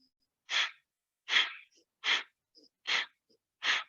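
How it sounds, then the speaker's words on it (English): Kapalabhati breath of fire in a yoga flow class, five sharp forceful pumped exhales through the nose at an even, roughly one-per-second rhythm, close and loud with silence between. "We're going to take breath of fire here, Kapalabhati breath. So each time we exhale, powerful exhale, we're going to pump the belly in and up again."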